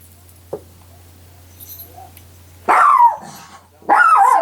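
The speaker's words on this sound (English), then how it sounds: "Doggy barked." A pet dog indoors gives two loud barks near the end, separated by a short pause, after a quiet stretch with a small sound and a low steady hum.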